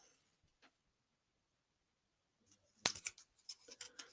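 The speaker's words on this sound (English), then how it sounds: "I'm just going to fold that over and tape it" Adhesive tape is pulled and pressed onto folded cardboard 3D glasses after a stretch of silence, giving a short burst of close, crisp crackles and ticks near the end.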